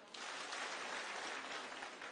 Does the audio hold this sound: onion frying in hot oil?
no